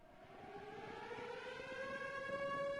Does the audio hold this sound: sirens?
yes